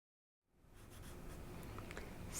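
Graphite pencil shading on paper, a steady close scratchy rasp that starts after a brief silence and continues unbroken to the end.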